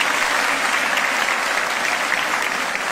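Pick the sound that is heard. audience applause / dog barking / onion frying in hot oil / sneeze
audience applause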